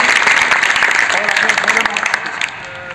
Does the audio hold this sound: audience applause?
yes